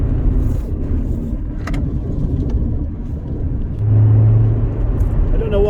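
Rover 45 on oversized 17-inch wheels, steady low road and engine rumble from inside the moving car, continuous and fairly loud, with a brief rise in drone near the end.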